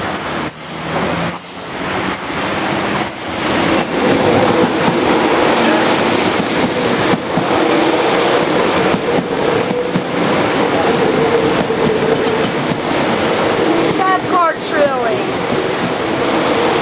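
A local passenger train runs through Vila Olimpia station, close and loud, in a steady rumble with rhythmic wheel clatter. Brief metallic wheel squeals break through near the end.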